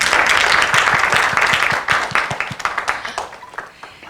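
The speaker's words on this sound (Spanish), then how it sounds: "Un aplauso para Paco." An audience applauds after a science-and-art talk on the brain, dense clapping filling the room at first, then thinning into scattered, separate claps that fade toward the end.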